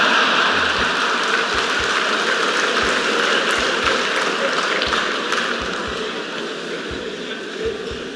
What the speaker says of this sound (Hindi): आया हूं इसकी ताली बजा रहे हो।